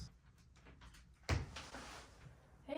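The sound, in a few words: door opening as someone comes in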